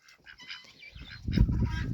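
A few scattered quacks at first, then a louder burst of overlapping calls from four drakes and one hen close by, raspy and continuous toward the end.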